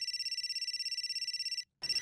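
A telephone trills in rapid, even electronic pulses, loud and close with no voices, then stops briefly and starts ringing again.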